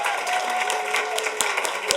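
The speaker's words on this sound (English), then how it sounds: "I think if we could get just one round of applause" Attendees at a school board meeting give teachers a round of applause, a steady bed of clapping from a room of people with a few sharper claps standing out.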